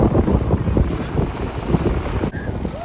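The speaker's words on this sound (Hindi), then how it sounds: "पर बहुत तेज़ हवाएं चल रही हैं" Strong wind gusting at Carcavelos Beach in Portugal, loud buffeting roar against the microphone with surf beneath, cutting out abruptly near the end.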